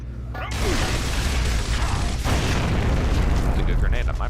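A grenade blast in Gears of War erupts with a sudden loud boom, then a long, rumbling, noisy roar with mechanical clatter, continuing heavily while voices talk underneath.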